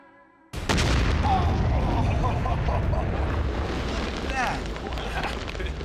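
A large explosive charge detonates beside a bulldozer during an outdoor test: a sudden heavy blast that turns into a long, loud rumbling roar, with voices reacting faintly under it.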